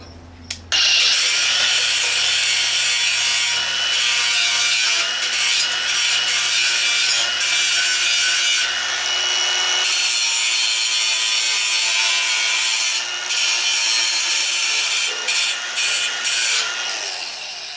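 A grinder runs on the rusty cab corner of a 1986 Ford 250 truck with a loud, continuous high-pitched abrasive whine, starting abruptly and briefly dipping as it touches the metal again and again.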